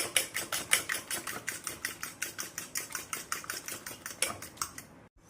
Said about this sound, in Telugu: ఈ బాగా గిలకొట్టాలి మొత్తం కూడా కలిసేలాగా బాగా ఇలా గిలకొట్టండి కారం ఉప్పు అంతా ఎగ్గులో కలిసేలాగా